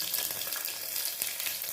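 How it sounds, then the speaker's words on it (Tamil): Cumin seeds and garlic cloves frying in hot ghee give a steady close-up crackle and sizzle, with a dense high hiss and small popping bursts throughout. "நெய் சூடாகிடுச்சு. ஜீரகம் கொஞ்சம் போட்டுக்கோங்க. பூண்டு 3 போட்டுக்கோங்க."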